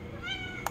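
A pet cat meows once, short and clear, close to a home microphone with a faint running-water hiss in the background.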